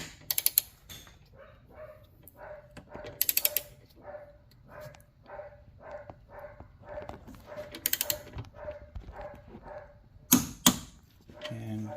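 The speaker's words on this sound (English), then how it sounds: "hear that pop? That's when you know you've reached the torque spec." A torque wrench clicks sharply several times as it reaches spec on a strut bolt during front strut replacement on a 2018 Ford Fusion S, with repeated ratcheting clicks and brief clattering bursts between.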